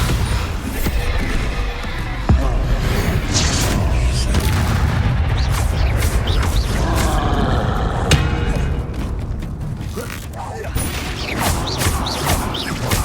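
A Bombarda spell explosion in Hogwarts Legacy booms amid dense, loud combat noise, with heavy rumbling impacts and crackling debris filling the whole stretch.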